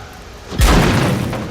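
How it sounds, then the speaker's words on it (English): A tank gun firing in World of Tanks, one loud close boom that hits suddenly and fades into a rumbling tail, over a quiet background with no voices. "And that's another shot?"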